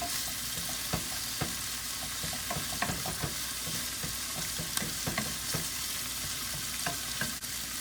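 Frozen cabbage frying in a pan, a steady broadband sizzle with scattered crackles and pops and occasional stirring scrapes, close and continuous with no voices.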